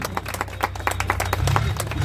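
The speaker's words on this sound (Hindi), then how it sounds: "एक जोरदार ताली होनी चाहिए।" Scattered clapping from an audience at a Chhath Puja celebration in Jhanjharpur, welcoming a committee member on stage; uneven, moderately loud claps over a low steady hum, building slightly toward the end.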